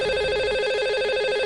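Telephone ringback tone sounding steadily as a call is placed to a radio show caller, a repeating electronic ring pulsing close and clear with no talk over it.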